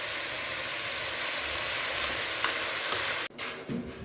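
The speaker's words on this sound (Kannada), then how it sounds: "ಇದ್ರ ಜೊತೆಗೇ ಸ್ವಲ್ಪ ಉಪ್ಪು ಹಾಕ್ಕೊಂಡ್ರೆ ಸ್ವಲ್ಪ ಬೇಗ ಫ್ರೈ ಆಗುತ್ತೆ." Soya chunks fry with salt in a pan, a loud continuous sizzle with light stirring scrapes that cuts off abruptly near the end, leaving a quieter rustle and clatter; no one speaks.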